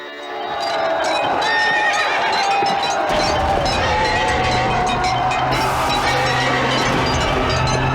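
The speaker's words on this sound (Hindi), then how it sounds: "घोड़ों का हिनहिनाना" Several horses neigh and whinny loudly and repeatedly in a mythological drama scene, with overlapping calls and some hoof and crowd-like rumble continuing underneath throughout.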